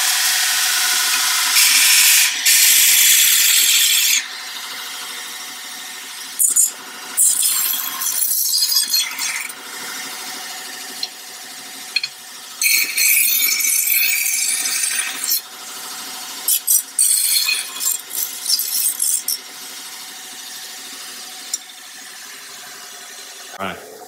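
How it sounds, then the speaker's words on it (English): A belt grinder takes the last bit of material off a metal part to leave a smooth, burr-free finish, giving loud, harsh grinding bursts of a few seconds each, separated by short pauses. "we use a belt grinder, and I'll just take off the last little bit of material"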